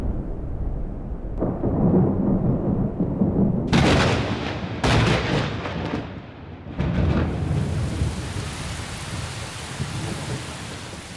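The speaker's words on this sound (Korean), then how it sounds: "요란한 천둥 소리와 함께 오카방고의 우기가 시작됐다." Loud thunder cracks and rolls over steady rain as the rainy season begins in the Okavango, with booming claps in the middle and a continuous wash of rainfall throughout.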